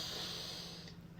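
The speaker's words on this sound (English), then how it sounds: "Breathing in." A single slow, soft inhalation through the nose during a guided meditation, close and quiet, with a faint airy hiss trailing off.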